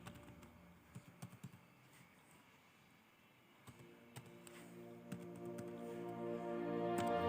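Keyboard typing on a computer, a run of quick, close key clicks in uneven bursts with a few louder strokes, over a low steady room hum, no voices.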